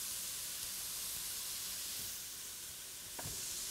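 Crumbled tempeh sizzles steadily in olive oil in a pan as part of a vegan shepherd's pie filling, a continuous close frying hiss with a brief stir or clatter near the end.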